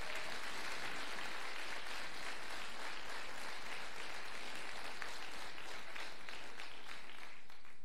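A church congregation at a Sunday celebration service applauds, with steady, dense clapping from many hands that fills the room without a break.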